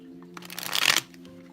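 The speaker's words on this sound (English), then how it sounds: "Let's do a little shuffle." Tarot cards are riffled in one quick shuffle, a brief rising burst of papery flutter lasting under a second against a quiet hum, close and clear.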